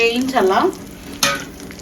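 Dried chillies, mustard seeds, cumin, fenugreek and curry leaves frying in hot oil for a chicken curd curry tempering, giving a close, steady sizzle with a sharp, louder burst of crackle and stirring partway through.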